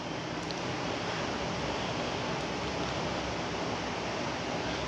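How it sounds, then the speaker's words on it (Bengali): Water poured steadily into a pan of sautéed potatoes for a Bengali katla fish kalia curry, a continuous broad rushing splash at even loudness, close and alone without talk. "এবার আমি পরিমাণ মতো জল দিয়ে দেব।"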